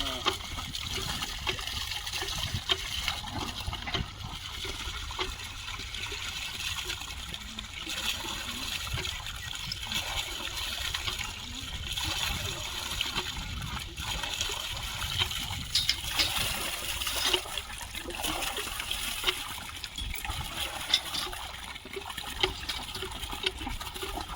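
Water flows out of the pipe of a newly installed tubewell in a steady, soft rushing and trickling stream that stays fairly faint and even throughout.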